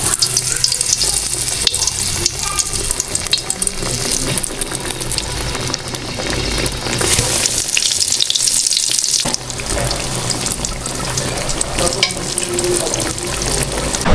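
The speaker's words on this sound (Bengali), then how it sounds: "এখন হচ্ছে বেগুন ভাজা হচ্ছে" Eggplant slices coated in rice flour fry in hot oil, giving a steady, loud crackling sizzle that runs throughout with only a slight dip midway; no one speaks.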